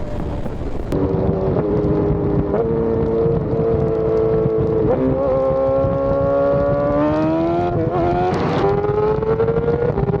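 A 2023 BMW S1000RR sport motorcycle running on E85 accelerates hard on a road after a downshift into second, its engine pitch climbing steadily through a gear change, loud and continuous under heavy wind buffeting.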